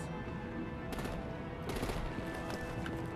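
Video game gunfire during a vehicle fight in Batman: The Telltale Series: dense rapid bursts of automatic shots over a loud, busy battle backdrop, steady throughout with no speech.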